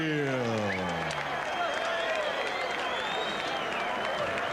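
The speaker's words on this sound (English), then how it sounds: "let's have a round of applause for a great display of courage" Boxing arena crowd at a heavyweight bout cheers and applauds steadily, dense clapping mixed with shouting; a voice-like tonal sweep sits low at the start, and the roar stays loud and unbroken throughout.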